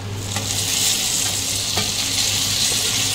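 Chopped small tomato hits golden-brown fried potatoes in a hot pan, producing a loud, steady sizzle and frying hiss with faint stirring scrapes close by.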